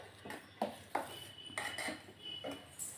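Metal spoon clinking against a pot while stirring urad dal payasam after the milk goes in, giving a few soft scrapes and light taps spread unevenly over a quiet background.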